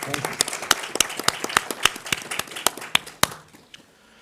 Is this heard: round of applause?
yes